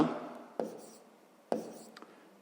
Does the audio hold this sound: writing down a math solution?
yes